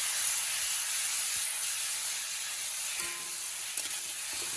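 A potato chop mixture being stirred in a hot pan, with a steady close hiss and sizzle and a few faint scraping touches near the end.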